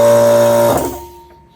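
A quiet-style air compressor running with its silencer removed, a loud steady motor drone with a buzzing hum that cuts off and winds down in under two seconds.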